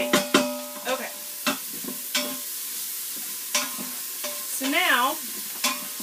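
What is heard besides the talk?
butter and garlic cooking in a Quick Cooker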